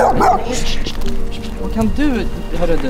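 A dog yips and whimpers close by in an abandoned Italian town, its short high barks mixed in with loud talking from people.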